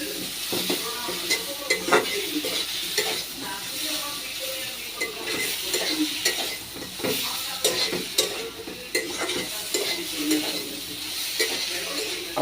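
Spice masala frying in a pan crackles and sizzles steadily while a utensil scrapes and stirs in repeated strokes, with a voice speaking over the cooking.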